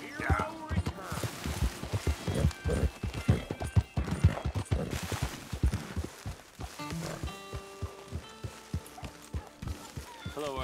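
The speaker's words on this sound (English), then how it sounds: "Get the horse out of here" Horse hooves clip-clop steadily in Red Dead Redemption 2, a rhythmic patter of hoofbeats running beneath game dialogue and voices, with music and ambient sound joining later.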